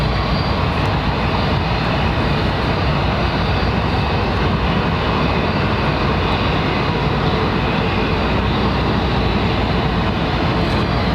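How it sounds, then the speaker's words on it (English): Airbus A380 airliner landing at London Heathrow Airport, a loud, steady broadband roar of jet engines that stays constant throughout with no talk. "the 380 will probably land on the southern runway at her designated arrival time"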